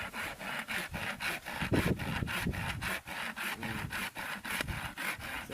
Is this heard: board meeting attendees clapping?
no